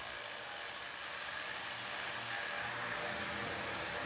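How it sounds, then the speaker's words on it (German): A small grinding machine dry-sands the outermost edge of a terrazzo floor, running continuously with a steady, harsh abrasive roar, close and unbroken, with no speech over it. "Er schleift die äußersten 2 Zentimeter, reihum, immer exakt am Rand entlang."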